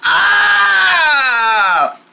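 A loud, close, acted scream from one person lasts nearly two seconds, wavering in pitch before it drops off abruptly.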